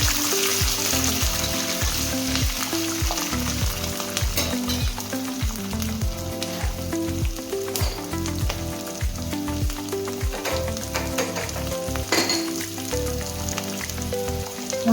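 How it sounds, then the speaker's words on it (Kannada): Dry red chillies, green chillies and chopped cashews fry in oil over a slow flame for lemon rice, with a steady dense sizzle and light crackle running throughout, close and continuous. "ಇದು ಚೆನ್ನಾಗಿ ಹುರಿಯಿರಿ ಸ್ಲೋ ಫ್ಲೇಮಲ್ಲಿ."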